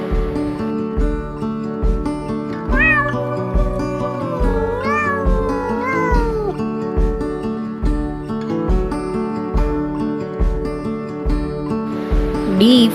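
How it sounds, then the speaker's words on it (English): A cat meows several times in rising and falling cries over steady, rhythmic background music that continues throughout. "C for cat."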